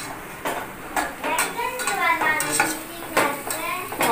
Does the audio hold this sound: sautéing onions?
yes